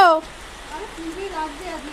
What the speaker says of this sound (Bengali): কি অবস্থা, বৃষ্টি পড়ছে দেখো বন্ধুরা